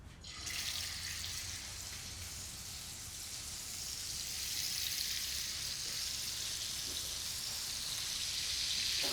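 Thick slices of liver seasoned with salt and pepper fry slowly over a gentle flame in a pan, making a soft, continuous sizzle that swells slightly over time with no talking.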